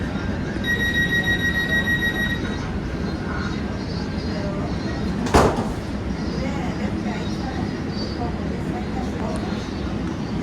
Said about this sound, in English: So, here I am back on the Metro, right? Because it's an electric mode of transportation.